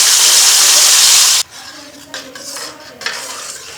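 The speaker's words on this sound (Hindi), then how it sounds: "अब जो प्याज का हमने पेस्ट बना के रखा था वो इसमें डाल देंगे।" Onion paste tipped into a hot pan of chicken kofta curry base with a loud burst of sizzling, which quickly drops away to softer frying with a few spoon scrapes and clinks as it is stirred.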